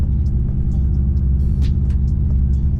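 Car engine with an open catback exhaust, idling as a loud, deep, continuous rumble up close.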